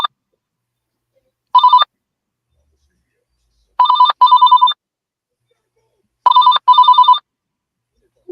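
A phone ringtone plays in three separate bursts of a bright, repeating electronic melody, loud and close, with silence between rings.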